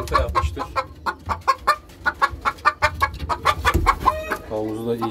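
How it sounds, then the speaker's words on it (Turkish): A hen clucking in a rapid, rhythmic series of loud calls close by after laying an egg, ending in a drawn-out cackle. "Tavuklar genelde böyle bağırdıklarında bilin ki yuvanın içindeyse eğer yumurta yapmıştır."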